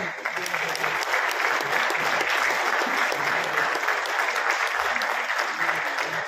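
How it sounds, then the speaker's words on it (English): Steady, full audience applause rolls on without pause at the opening of a national-level electric vehicle competition at an engineering college. "I think all of you deserve a round of applause."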